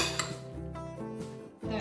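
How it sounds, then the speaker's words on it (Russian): Onion and potatoes stirred in a frying pan, a steady scraping of utensil against metal with soft clinks, close and continuous, no talk. "И перемешаем эти продукты."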